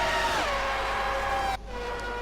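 A Formula 1 race car engine in the F1 2020 video game whines at high pitch, its tone dropping as it shifts, then cuts off abruptly before a quieter engine hum continues.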